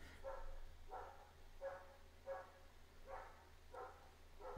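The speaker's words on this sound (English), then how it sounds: "Random dogs outside." Dogs bark outdoors at some distance, a rhythmic run of about seven barks at roughly even spacing over a steady low hum, with no voices.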